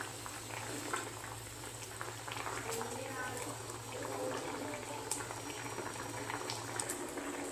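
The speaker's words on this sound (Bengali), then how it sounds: "এবার আমি ঝোলের মধ্যে মাছটা ফুটতে থাক" Bata fish simmering in a curry gravy bubbles with a soft, continuous boil, steady and close, with a low hum running underneath throughout.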